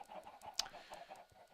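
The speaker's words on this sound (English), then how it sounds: "Okay, so as you hear, chickens." Chickens cluck in the video game Minecraft on a chicken farm, with a run of soft, repeated clucks and one sharper squawk near the middle, at moderate volume with no talking.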